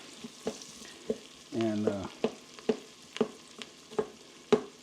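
Onion cooks in butter and oil in a pan for potato soup, a soft steady sizzle broken by regular close stirring taps roughly every half second, with a brief spoken word partway through.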